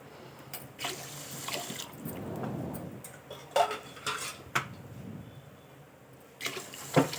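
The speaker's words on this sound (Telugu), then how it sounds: "నేను వచ్చేసి నాలుగు గ్లాసులు వాటర్ వేసుకుంటున్నాను" Glasses of water are poured into a pot of rice for bagara rice, giving splashing gurgles between clinks of metal utensils and pots in a quiet kitchen.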